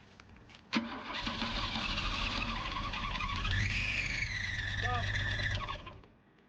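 A 1979 Opel Monza series 1 barn find cranks and catches after a burst fuel pipe is replaced, its engine starting with a sharp jolt, then revving loudly and steadily for several seconds before cutting off.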